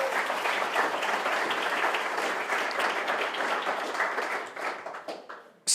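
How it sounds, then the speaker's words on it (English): Steady audience applause for students from Simsbury High School, an even wash of clapping that stays level for several seconds and then thins out before a sudden sharp sound at the end. "You can give them a round of applause."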